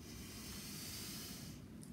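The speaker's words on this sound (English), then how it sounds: "We're gonna do 3 more deep breaths in" A slow, deep breath drawn in during a mindfulness exercise, a soft airy hiss held steadily for nearly two seconds, faint and close.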